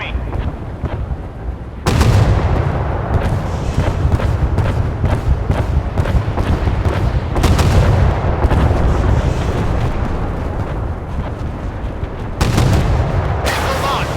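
Heavy naval artillery fires in the warship game Force of Warships, a string of loud booming cannon shots and rumbling blasts across the engagement, with brief game voice callouts between them.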